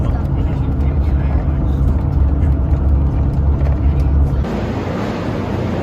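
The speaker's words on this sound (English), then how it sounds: "On the bus to Bangor." Inside a moving bus on the way to Bangor, a loud, steady engine and road rumble fills the cabin, its tone shifting slightly near the end.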